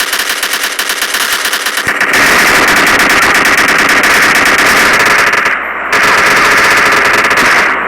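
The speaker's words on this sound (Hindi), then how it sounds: "शॉटगन की बारी है।" Rapid, loud gunfire fills the clip in an online shooter game as a shotgun comes into play. Dense bursts run nearly continuously, with one brief gap near the end.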